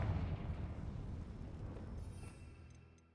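The Confringo spell is cast in the video game Hogwarts Legacy: a loud fiery explosive burst with a deep rumble that slowly fades over a few seconds.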